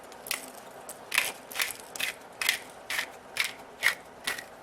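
A pepper mill grinds black pepper into a ham and noodle soup, about eight crisp, rhythmic grinding bursts close up over a quiet background.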